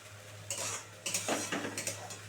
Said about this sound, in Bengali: এবার এটাকে আমি সুন্দর করে কষাবো